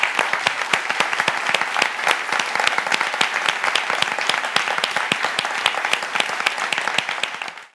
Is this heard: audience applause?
yes